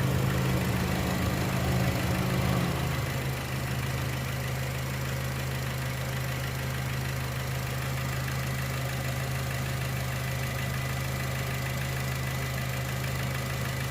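A Chevy Trax, Cruze or Buick Encore engine idles steadily with a low, even hum, after a brief slightly louder rumble at the start, coolant at 185 degrees.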